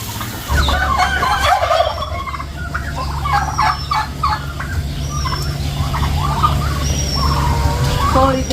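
Chickens in a coop cluck and call throughout, with repeated bird vocalizations over a steady low hum and some background noise, fairly close and continuous.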